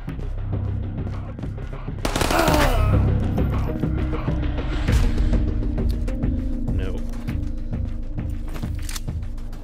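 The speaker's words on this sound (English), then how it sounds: "I think I hear people shooting at command center." Gunfire in Ghosts of Tabor, with bursts of automatic fire and scattered single shots crackling through the scene, including a loud close burst early on, while a voice speaks briefly.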